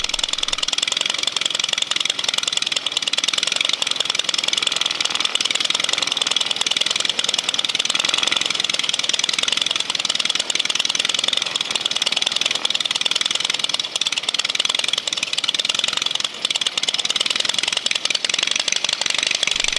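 A Hummelbird homebuilt aircraft engine idles steadily throughout, with a continuous, even mechanical drone and no pauses or talking, while the owner-builder works on the idle and top-end RPM adjustment.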